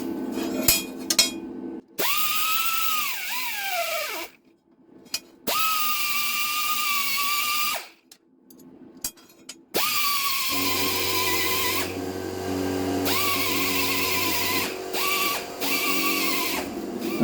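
A metal cutlery sculpture is smoothed with 600 grit abrasive on a power tool, which runs in long steady whining bursts separated by brief pauses and a few clanks, loud and close with no talk.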